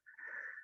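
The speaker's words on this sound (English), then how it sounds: "Or is that a cough?" A single short, breathy burst lasting under a second, a rasping exhale that could be a cough or sneeze, close and fairly quiet.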